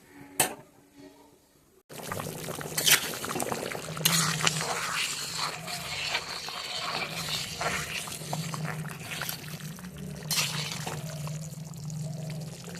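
A pot of potato dal boils on a stove with a steady, rushing bubble and seethe that starts after a short quiet moment and continues evenly, broken by occasional faint clinks of a pot.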